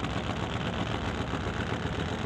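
A Top Fuel Harley drag motorcycle engine idling at the strip ahead of its burnout, a steady, loud, rough mechanical rumble that holds without pause.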